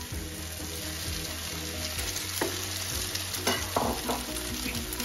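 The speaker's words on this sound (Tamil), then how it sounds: "இப்போ நாங்கள் முட்டையை போடுறோம் இதில்." Eggs fry with a steady sizzle in a pan for kothu roti, close and continuous, with a few sharp scrapes of stirring against the metal and no voices.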